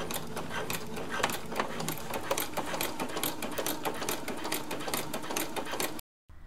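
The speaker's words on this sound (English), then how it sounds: "I am just going to stitch in the ditch" A sewing machine stitches in the ditch along the seams of a handkerchief quilt, its needle running in a fast, steady mechanical rhythm close by before stopping abruptly near the end.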